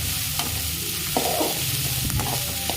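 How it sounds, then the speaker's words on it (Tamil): Finely chopped onions sizzle in a hot pan for paniyaram, with a steady frying hiss and a few scraping stirs of a spoon, close up and with no talking. "வெங்காயம் பொடி பொடியாக அரிஞ்சு வச்சுருக்கோம், அதை போட்டுக்கலாம்."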